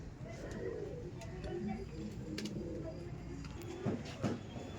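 A female racing pigeon held in the hand at a loft gives low, soft cooing over a steady background murmur, with a couple of brief louder thumps near the end and voices in the background.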